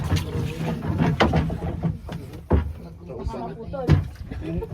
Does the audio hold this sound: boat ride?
yes